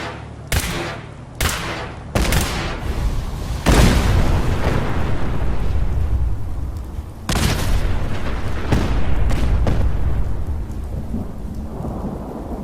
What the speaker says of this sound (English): Even fire and explosion effects, which I was dreading